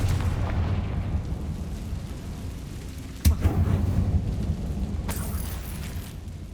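A Confringo fire spell from the video game Hogwarts Legacy bursts with one sharp, loud blast over a constant low rumble, followed by a crackling tail and a second, fainter burst near the end.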